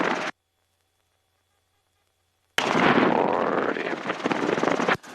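A Robinson R22 helicopter flying a touch-and-go circuit near an airport helipad: a short loud burst of rotor and engine roar, a sudden dead gap, then the close, heavy, continuous whir and throb returning at full loudness.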